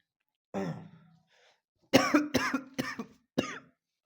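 A single cough followed after a pause by a burst of several rapid, harsh coughs, close and fairly loud, with no talking.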